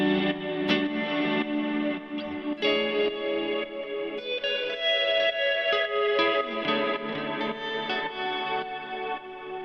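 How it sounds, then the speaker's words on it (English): Guitar chords drenched in sidechained reverb, the effect switched through a Morningstar MC8 MIDI controller synced to MIDI clock, ring out loud and continuous with dense, swelling and pulsing wash and no talking. "So that's just a cool sidechain reverb that you can do with that."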